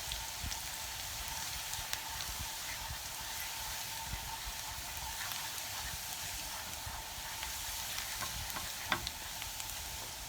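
Garlic browning in oil gives a soft, even crackling sizzle throughout, faint and close with no voices, with one small clink near the end.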